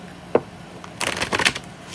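Playing cards being shuffled close by in a quiet room, a single soft riffle tap followed by a longer burst of crisp flutter and snapping, then trailing off.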